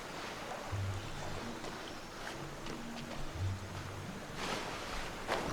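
Genshin Impact character swimming: a continuous soft wash of water, splashing and gentle surf, fairly quiet and steady, with faint low tones and a few brief splashes near the end, without talking.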